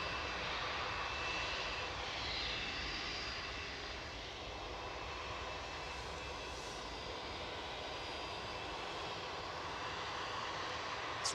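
An airliner in rainbow livery arrives at Manchester Airport from Orlando, its engines a steady, fairly faint broadband roar that holds evenly throughout.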